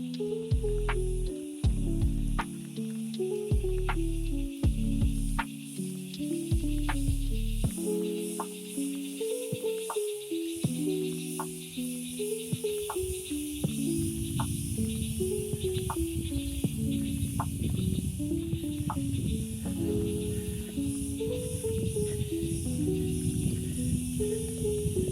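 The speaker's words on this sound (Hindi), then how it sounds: "आई डोंट नो कि ये झिंगुर की आवाज़ है या किस चीज़ की आवाज़ है" Rainy monsoon forest ambience in Jibhi, a constant high insect-like trill layered over steady outdoor hiss, with a low drone and scattered ticking throughout.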